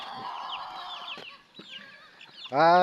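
Chickens cluck and chirp on a farm, a busy close group of short calls, with one louder, harsher squawk bursting out at the end.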